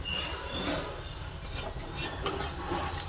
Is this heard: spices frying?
yes